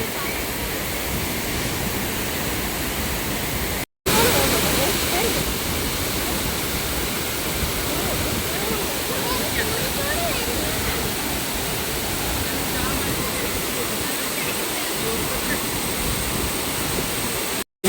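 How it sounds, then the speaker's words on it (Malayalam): A dense, continuous roar of rushing water at Thekkemala waterfall, steady and broad, with a brief break near the start; voices may blend in faintly. "ആ നല്ല കിടിലം വെള്ളച്ചാട്ടം"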